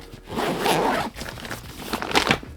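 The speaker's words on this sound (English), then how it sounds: "If I can find the zipper." A zipper on a GORUCK Dyneema bag with standard non-AquaGuard zippers is pulled in two quick rasping runs, close up and fairly loud, with no voices.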